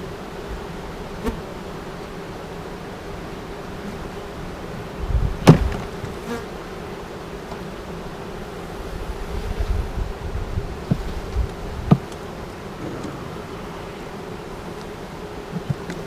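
A honeybee swarm buzzes steadily during a hive relocation and transfer, a continuous droning hum close by with occasional louder passes and a few knocks from handling the box, with no talking.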